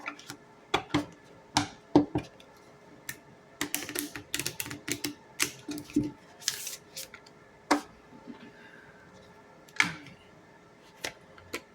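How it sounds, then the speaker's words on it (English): Tarot cards are shuffled in scattered bursts of crisp clicks and flaps, irregular and close, with brief quiet gaps between the handfuls. "Spirit, one more shuffle, please."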